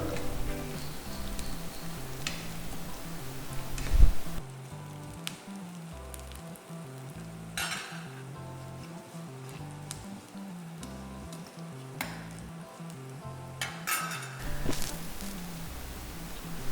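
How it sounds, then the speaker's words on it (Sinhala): Mustard seeds crackling and sizzling in hot oil during tempering for a Sri Lankan dish, a soft steady frying hiss with scattered faint pops, quiet and fairly close with no talk. "ඊළඟට අපේ ටෙම්පරාදුව මේ විදිහට එනකොට අපි මේකට එකතු කරන අබ ස්වල්පයක්"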